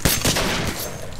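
Rapid gunfire from a weapon in the post-apocalyptic shooter STALKER: Call of Pripyat, Misery 2.0 mod, a dense volley of close, loud shots with a sharp burst at the start and steady firing continuing underneath.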